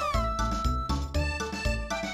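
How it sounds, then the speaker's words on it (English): Cat meowing in the Chrono Trigger video game, a run of several clear, tonal game-sound meows in quick sequence, loud and close, with no talk over them. "Heck, there might even be cats!"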